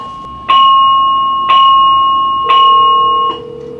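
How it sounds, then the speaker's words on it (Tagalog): A building fire alarm bell in a Canadian apartment sounds in loud, ringing strikes about once a second, each with a sustained metallic tone that rings on, three strong hits and a fourth cut short. "Yes, this is the fire alarm"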